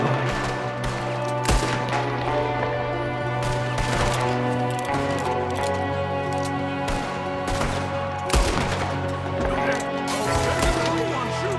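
Rapid gunfire from an ambush in the Red Dead Redemption 2 video game, several guns shooting from a window, with repeated sharp bursts layered over a steady music bed and continuous game ambience.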